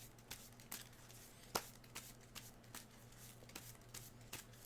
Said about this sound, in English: We're just gonna shuffle twice.